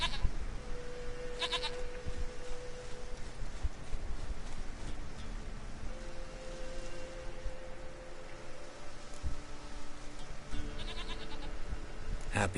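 A goat in The Witcher 3 bleats several times over about twelve seconds, with wavering nasal cries spaced apart over soft ambient background noise, and nobody talks.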